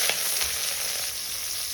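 Fish frying in hot salted oil in a wok, a bright steady sizzle with a few faint clinks, continuous and close with no talking.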